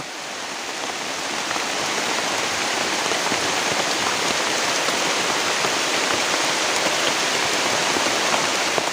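Heavy rain pours steadily onto forest leaves, a dense, loud hiss of countless drops building slightly and continuing unbroken, with no voices.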